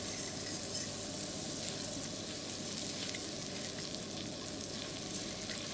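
A large amount of butter sizzles and fries steadily in a pan as the base for flambéed crêpes, a continuous close, crackling hiss with no talk.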